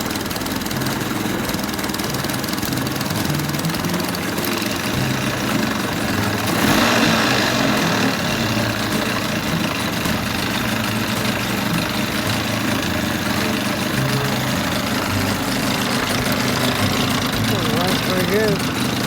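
A 1983 Mercury 25hp 25XD outboard motor running in gear on a lake, a steady droning engine hum that holds for the whole stretch while someone talks over it.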